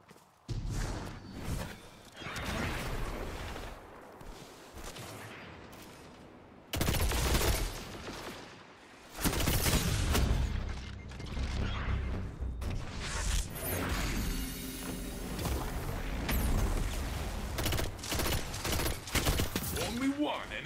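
Dense gunfight in the video game Veles-X 2: bursts of automatic and single gunfire crackle almost continuously for twenty seconds, with sharp loud volleys, whooshes and impacts, a brief lull near seven seconds, then heavy firing resumes.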